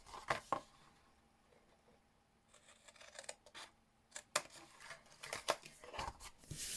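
Scissors cutting card along score lines to trim squares and rectangles for a gift box, a series of close, crisp snips in uneven bursts.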